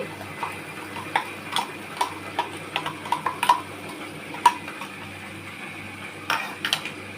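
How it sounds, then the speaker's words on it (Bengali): A spoon stirs a paste of poppy seed, cashew, ginger, green chili and garlic in a pan for a soybean dish, with scattered light metallic taps and scrapes at irregular intervals over a quiet, faint background. "এইবারে দেখুন এখানে যে আমি যে পোস্ত, কাজু, আদা, কাঁচা লঙ্কা, রসুন যে পেস্ট করেছি, এটা এর মধ্যে ঢেলে দিচ্ছি।"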